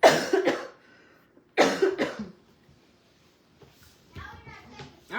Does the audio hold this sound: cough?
yes